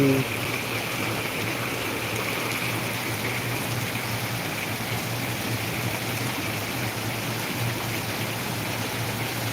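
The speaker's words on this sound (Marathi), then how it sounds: "आमच्या नगरमध्ये पण खूप भयानक पाऊस आहे" Dense, continuous monsoon rain roar in Ahilyanagar, a steady full hiss with no breaks, close and loud throughout.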